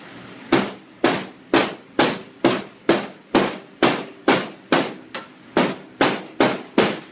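Peppercorns wrapped in a cloth are smashed with a French rolling pin on a hard prep table, about fourteen loud, evenly spaced thuds in a steady rhythm.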